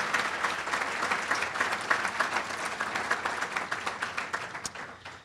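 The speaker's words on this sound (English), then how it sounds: "let's give one more round of applause to the inductees of the Virginia Golf Hall of Fame" Steady, dense applause from an audience at a Virginia Golf Hall of Fame induction ceremony, sustained at even volume throughout and tapering slightly at the close.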